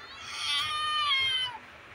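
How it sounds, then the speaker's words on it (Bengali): A cat gives a single drawn-out, close meow lasting over a second while fish is being cut nearby, with faint low background noise and no talk. "এখানে মা মাছ কাটছে, আর পুষিগুলো এসে ম্যাও ম্যাও ম্যাও করছে।"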